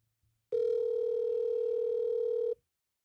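A telephone call ringing out unanswered, heard as a single steady electronic tone that sounds for about two seconds and then cuts off, alone in an otherwise quiet line.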